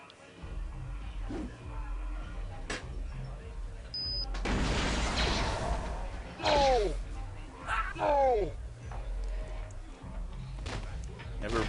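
Grenade blasts in Star Wars KotOR: a heavy explosion bursts out and rumbles for a couple of seconds amid combat noise, with sharper impacts and pained vocal cries from characters following, and a voice heard briefly.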